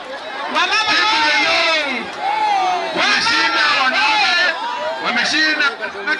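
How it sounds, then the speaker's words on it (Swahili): A crowd at an outdoor community activism event in Ibeno ward claps, whoops and cheers for a team in loud bursts, with excited voices and babble mixed in throughout. "Makofi kwa timu Iveno."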